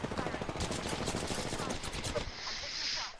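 Rapid automatic gunfire from the video game Apex Legends crackles in dense bursts for most of the moment, fairly faint, with players talking over it before it stops.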